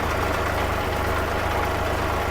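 A tractor engine runs steadily at a low, even idle, with a rumbling drone that continues throughout and no voices.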